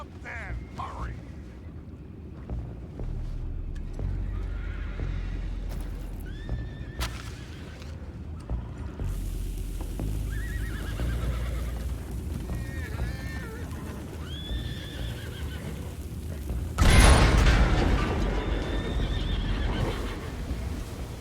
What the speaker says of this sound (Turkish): Atlar delirdi